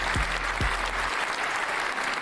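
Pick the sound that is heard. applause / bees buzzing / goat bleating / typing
applause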